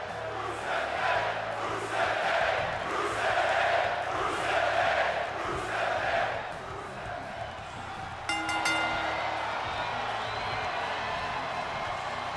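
A large arena crowd in WWE 2K22 chants the Rusev Day chant in a rhythmic, swelling group cadence, loud and continuous for several seconds before settling into general crowd noise.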